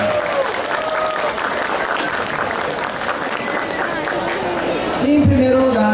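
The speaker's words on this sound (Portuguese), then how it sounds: "Palmas pra ele, galera." Audience applause at a cosplay award ceremony, sustained dense clapping from a crowd throughout, swelling a bit louder near the end with some scattered cheering.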